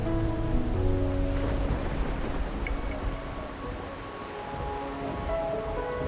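Steady night rain in the video game Wuthering Waves falls as a continuous wash under soft sustained musical tones, with no voices, holding fairly even throughout.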